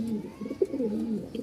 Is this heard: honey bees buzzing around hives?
no